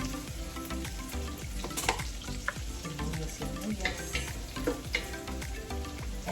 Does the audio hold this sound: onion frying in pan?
yes